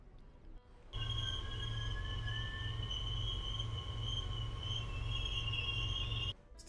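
An MBTA commuter train locomotive in Train Sim World 5 hums steadily with a low pulsing engine drone and high wheel squeal tones, running continuously after a brief quieter start.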